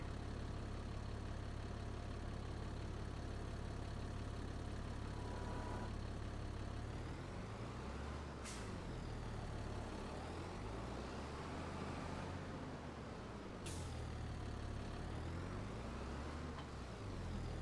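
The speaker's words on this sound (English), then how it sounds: "Tractor volume's a little bit low." A tractor engine in the video game Farming Simulator 22 idles with a steady low rumble, fairly quiet and constant, with a couple of brief sharper bursts partway through and no talk.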